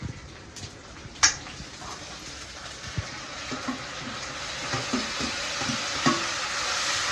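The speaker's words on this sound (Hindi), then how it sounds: "जीरा ऐड किया जा रहा है गर्मा गर्म तेल में" Steady sizzling hiss of cumin seeds frying in hot oil for a tadka, with scattered light pops and a couple of sharper clinks, no talking.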